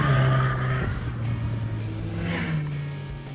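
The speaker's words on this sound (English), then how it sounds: "the exhaust sounds pretty cool" Exhaust note from a Mazda Miata convertible with an aftermarket spoiler during an autocross event, a loud steady engine drone with a low harmonic hum, slightly shifting in pitch as it passes close by, with no talk over it.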